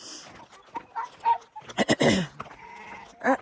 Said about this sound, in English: I'm gonna let the sheep out.